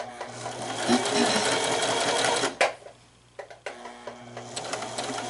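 A sewing machine stitches a small seam on a teddy bear, running loud and steady, stopping briefly with a clack, then resuming its hum.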